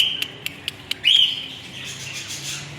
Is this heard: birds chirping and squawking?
yes